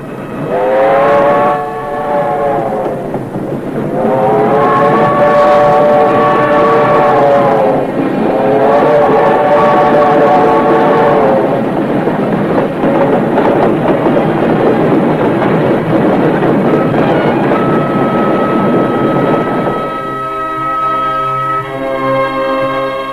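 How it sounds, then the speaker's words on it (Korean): A loud train rumbles and clatters steadily, with a long wailing whistle rising in repeated blasts, then a sustained high tone as it pulls away. "오직 살아야 한다는 한가닥 몸부림 속에 기차는 떠나갔습니다"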